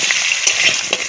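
Potatoes fry in a pan with a loud, dense, continuous sizzle and small pops, heard close up with no voices.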